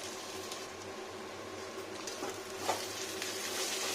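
Spiced chicken fries in a little oil, a steady close sizzle with light scraping and stirring strokes running throughout, a brief clink near the end, no talking.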